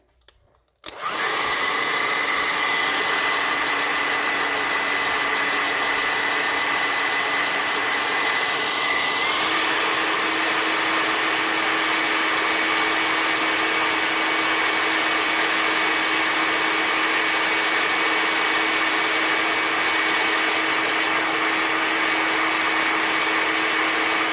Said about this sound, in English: now I'm just gonna blow dry this again.